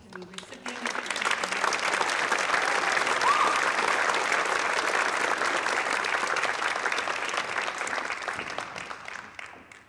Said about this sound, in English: Please give a round of applause to Ms. Natalie Johnson, the 2023 recipient.